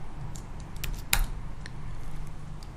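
Python code being typed on a computer keyboard: a short run of soft, close key clicks with one sharper tap midway, alone without speech.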